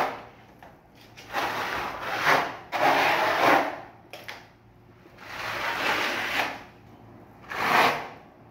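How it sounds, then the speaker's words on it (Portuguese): A thin coat of Arenato wall texture being scraped onto a wall, several loud rasping strokes in uneven bursts separated by short pauses, close up. "Faça uma camada fina, raspando mesmo, não precisa passar grossa"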